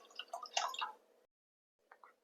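Milk is poured into rice for sweet pongal, a short gurgling splash followed by a silent pause and a second, fainter brief pour, close and quiet.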